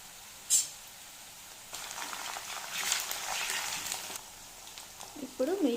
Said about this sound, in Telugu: ఇప్పుడు ఆనియన్స్ కొంచెం గోల్డెన్ బ్రౌన్ కలర్లోకి చేంజ్ అవుతున్నప్పుడు కొంచెం అల్లం వెల్లుల్లి పేస్ట్ యాడ్ చేసుకోవాలి